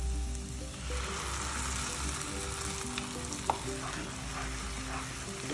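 Onion paste for egg curry frying and being stirred in a pan, a continuous close sizzle with scraping stir strokes and a small knock partway through, with no talking.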